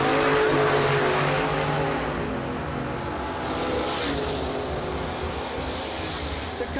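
Old-school drag racing door cars run side by side down the track at a bracket race, a loud broad engine roar that swells and fades with a rasping tire edge.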